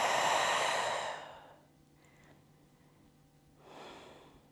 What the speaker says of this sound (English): Take a slow, deep breath in, and then a slow, deep breath out.